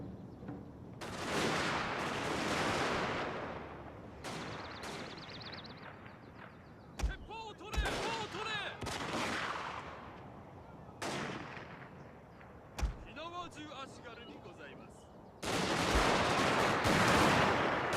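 Gunfire from a Total War: Shogun 2 battle comes as dense crackling volleys of musket-like shots with several sharp individual bangs between them, then a heavy sustained burst at the end.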